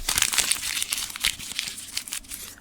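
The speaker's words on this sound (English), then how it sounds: "I'm crumpling them up and I'm throwing them away." Paper sheets of written predictions being crumpled by hand, a continuous close crinkling and crackling with sharp bursts, loud and alone without any speech.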